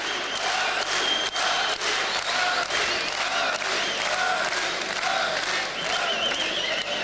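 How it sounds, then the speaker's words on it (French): A boxing crowd cheers middleweight Ali Bouinoual after his bout against Frederic Esther, with a dense, loud and steady roar of voices and clapping that carries on for several seconds. "Et le public qui encourage Ali Bounoual."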